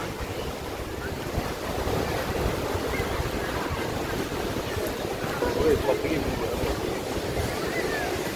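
Sea waves and wind roar continuously at Puri beach, a dense, steady wash of surf with gusty wind noise buffeting the microphone throughout, close and loud.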